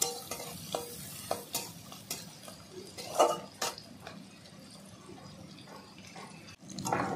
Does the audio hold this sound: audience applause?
no